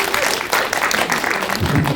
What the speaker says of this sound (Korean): 박수로 한번 부탁드리겠습니다